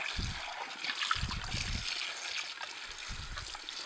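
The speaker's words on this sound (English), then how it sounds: "We'll just rinse that right out." Running water rinses fruit pulp out of the bowl of a Sana EUJ-808 juicer, making a steady trickling splash with a few stronger bursts of flow, close and alone without talk.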